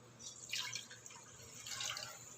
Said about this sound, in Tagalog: dadagdagan ko pa rin yan guys na tubig